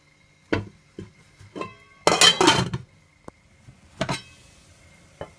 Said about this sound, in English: So I'm just gonna put back the lid on it.